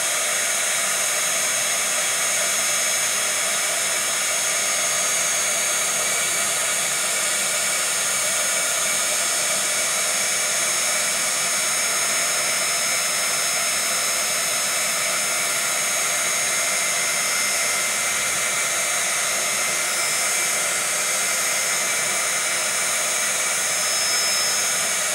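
Embossing heat tool blows a steady, loud, broadband airflow roar to melt embossing enamel, running continuously and unchanging throughout with no talk over it.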